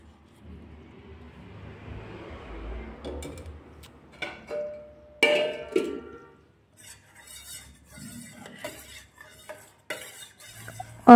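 A spoon stirs curd into a pot of milk to set yogurt, giving soft scraping and clinking against the vessel in short uneven bursts, close by with no talk.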